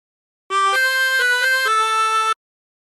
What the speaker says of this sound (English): how to play it on the Tremolo Harmonica with 24 holes